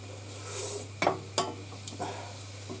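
Leeks and garlic sizzling gently in olive oil for leek and potato soup, a faint steady hiss with a few sharp taps and scrapes of stirring, no talk.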